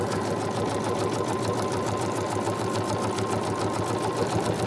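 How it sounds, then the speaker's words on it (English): A sewing machine runs steadily and loudly, its needle stitching in a fast, even rhythm as fabric pieces for a Christmas pillow are joined, with no talk. "And then we're going to sew the big one to the other two."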